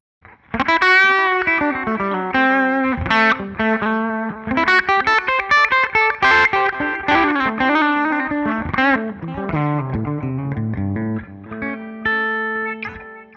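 An electric guitar runs through a Line 6 POD Go multi-effects unit with its betterizer block engaged, playing a melodic lead line of sustained, slightly driven notes with bends and some chordal passages, clear and upfront with a short pause near the end.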